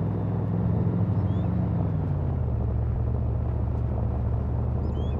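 A Suzuki motorbike engine in the video game City Life RPG 2 gives a steady, loud, low rumbling drone that holds on without pause and dips a little in pitch early on.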